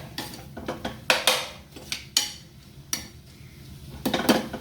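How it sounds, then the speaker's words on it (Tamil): A spoon scrapes and clanks through a chickpea and egg mixture in a pan over a low flame, irregular loud metallic strokes close by with a faint sizzle underneath, no speech. "குக் பண்ணக்குள்ள அப்படியே நல்லா மிக்ஸ் பண்ணி கொண்டே இருங்க"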